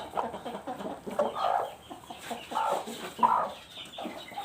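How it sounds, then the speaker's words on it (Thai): A protective mother hen of a red-jungle-fowl-type breed clucks near her chicks, giving several short, close, rhythmic bursts of clucking with a few brief pauses between them. "อันนี้แม่ไก่เลี้ยงลูกอยู่ดุมาก"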